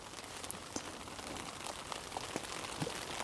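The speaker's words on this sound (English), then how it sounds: "Hopefully it stops raining." Steady rain patters on a surface, with scattered louder drops landing close by over a constant soft hiss.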